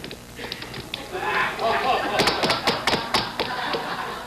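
Knocking on a door at a Halloween party, a series of sharp taps and thuds in a loose rhythm that builds toward the end. Voices and background activity fill the room underneath.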